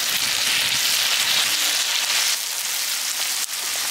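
Onions frying in a pan for a salted dried fish rice dish give a steady, close, loud sizzle with a dense hiss that runs unbroken throughout, with no talking.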